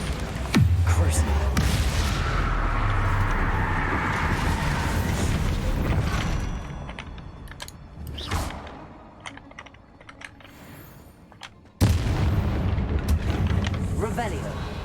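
A Bombarda explosion spell goes off in Hogwarts Legacy, a sudden loud blast followed by a rumbling tail and debris crashes, with game effects and a voice calling out spells around it.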